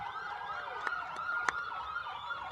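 Wailing police siren from a restored 1954 Ford police car rolling in a Fourth of July parade, sweeping steadily up and down at moderate distance with a couple of sharp clicks, no talking.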